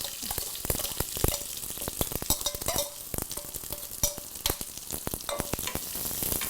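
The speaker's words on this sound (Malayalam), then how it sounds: "കടുക് പൊട്ടാൻ തുടങ്ങി" Mustard seeds crackle and pop sharply in hot oil, a dense run of irregular snaps over a steady sizzle, close and fairly loud, with no talking.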